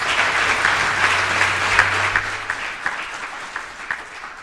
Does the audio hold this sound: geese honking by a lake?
no